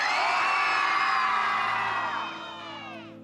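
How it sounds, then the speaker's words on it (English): A group at a bootcamp screams and shouts as loud as they can, a dense, loud wall of many voices yelling together that holds for a few seconds, then trails off and fades. "you are going to scream and shout as loud as you can"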